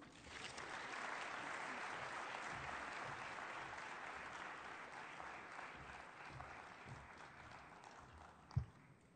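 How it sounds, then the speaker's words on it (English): An audience at a WHO Africa health forum in Rwanda applauds, a sustained, fairly distant wash of clapping that slowly tapers, with one sharp knock near the end. "Multiple rounds of applause for the regional director of WHO Africa."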